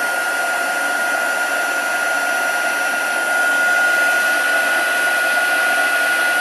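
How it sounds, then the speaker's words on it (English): Heat tool runs continuously while melting embossing powder, a steady, loud, fan-driven whirring hiss with a high whine, growing slightly louder partway through. "So heat up your heat tool before you start"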